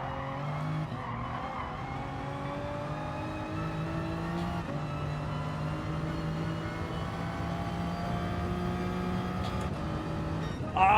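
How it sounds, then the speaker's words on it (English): Race car engine in the GT Sport video game revving hard and steadily, a continuous droning roar with rising and falling pitch and some tire squeal, holding loud throughout. "I tried to rev it out so it wouldn't change gear."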